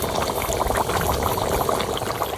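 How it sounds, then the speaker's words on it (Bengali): Water poured into sautéed duck meat in a hot pan, a dense bubbling, gurgling splash with steady hissing that carries on loudly throughout the short stretch, with no talk. "মাংসটা কষানো হয়ে গেছে, জল দিয়ে দেবো"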